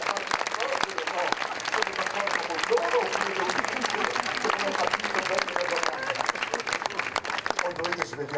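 Theatre audience applauding throughout a live stage performance, a dense, steady wash of many hands clapping at full volume with no break, close and continuous, with faint voices mixed in.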